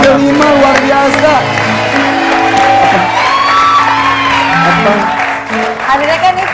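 A studio audience at an awards show breaks into loud, sustained applause mixed with cheers, whoops and shouts, while voices carry over the clapping throughout.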